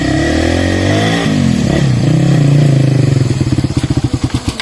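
A damaged motorcycle engine revs loudly up close, rising and falling before settling into a rough, pulsing idle that slows toward the end.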